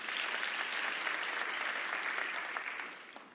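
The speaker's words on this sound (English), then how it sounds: "you can clap for that" Audience applause at the mayor of New York's State of the City address, a dense, steady wash of many hands clapping that holds evenly, then tapers slightly near the end.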